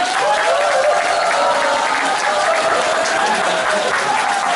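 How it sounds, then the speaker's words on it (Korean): Audience applause at a Democratic Party press conference announcing a Gumi mayoral candidacy in 2018, a steady, dense roar of clapping held at even loudness throughout with no pauses. "박수 한번 주시죠."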